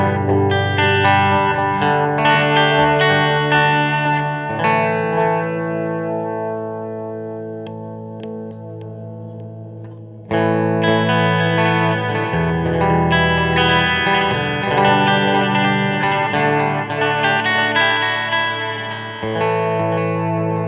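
Electric guitar chords through Mr Black Dark Echo and Downward Spiral delay pedals ring out with repeating echoes trailing each strum, a pause midway, then more echoing chords with a slight wobbling shimmer.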